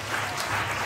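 A church congregation applauding to acclaim Jesus, a dense burst of many hands clapping together, close and loud.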